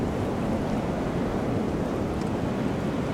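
Ocean waves break at the edge of a lagoon in the Maldives, heard as a continuous broad wash of surf mixed with wind buffeting the microphone, steady and fairly loud, with no voices.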